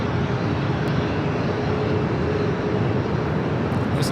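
A Boeing 777-200 pushing back at LAX, bound for Vienna, with a constant broad jet roar and low engine rumble holding steady throughout.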